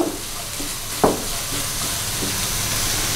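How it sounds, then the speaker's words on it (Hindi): Capsicum cubes sizzle steadily in a hot pan while a spoon stirs them, with a sharp scrape of the utensil against the pan near the start and a constant frying hiss. "हम इस तरह चम्मच चलाएंगे।"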